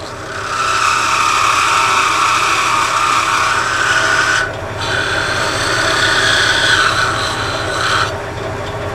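A wood lathe cuts a lighthouse Christmas tree ornament with a diamond parting tool, a loud steady rasping hiss that drops out briefly twice and then resumes.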